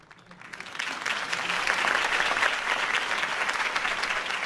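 A crowd applauds after a campaign speech by Harvey Dent in the Batman Telltale video game, the clapping swelling from a soft start into a full, sustained ovation.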